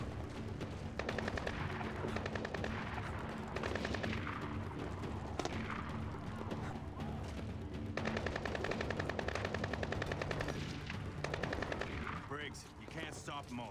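Sustained gunfire in the Splinter Cell Blacklist video game, with rapid machine-gun bursts rattling almost continuously and loud, close, dense volleys overlapping, while voices talk faintly underneath.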